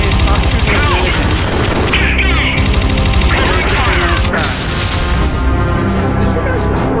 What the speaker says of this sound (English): Did you guys just throw a grenade at Minikin?